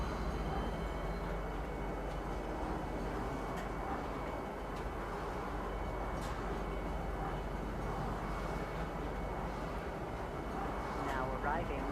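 A train pulls into TISA Spaceport in the Star Citizen game, a steady, loud rolling rumble that holds for the whole stretch while a voice speaks over it.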